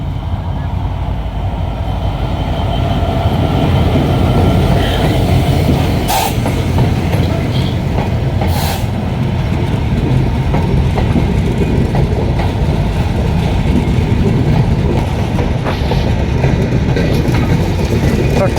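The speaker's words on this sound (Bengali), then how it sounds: "সুন্দরবন আন্তনগর এক্সপ্রেস এইমাত্র কিন্তু যেটি খুলনার উদ্দেশ্যে অতিক্রম করবে পাচুরিয়া রেলওয়ে জংশন" Sundarban intercity express train passing through Pachuria railway junction in Bangladesh: a loud, steady rumble of rolling wagons with rhythmic clickety-clack of wheels on rail joints, continuous throughout at close range.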